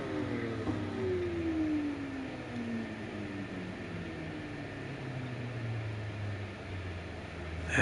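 A race car engine in a driving video game winds down after a run, its turbine-like whine falling steadily in pitch over several seconds, alone and fairly quiet.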